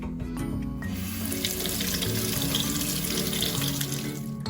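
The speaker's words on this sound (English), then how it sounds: "run your jar under hot tap water until they are warm." Hot tap water runs steadily over a glass jar at a kitchen sink, warming it before the rock candy sugar solution is poured in; a continuous close hiss and splash throughout.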